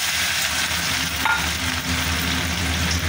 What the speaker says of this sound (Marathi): तेल तापलेलं आहे आपलं. जिरं टाकते मी पहिले आणि अद्रक लसूण टाकते.